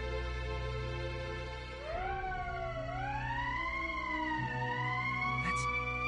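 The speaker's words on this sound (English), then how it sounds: "That's the emergency siren." A rising and falling electronic emergency siren wails in the video game Valkyria Chronicles, starting near the two-second mark and sweeping up and down steadily over a constant low background drone until the end.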